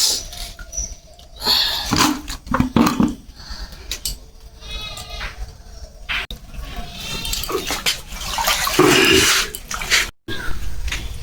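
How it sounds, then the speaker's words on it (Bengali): Red amaranth greens are washed by hand in water, with irregular splashing and sloshing bursts close up and brief pauses between handfuls. "এটা নিয়ে তিনবার আর ভাল করে ধোবার ধরছুম"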